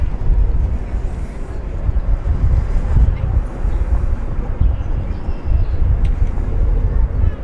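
Airbus A321 jet taking off from runway 18 left at DFW Airport, a steady broad low roar of engine noise with wind buffeting the microphone, sustained throughout at a distance.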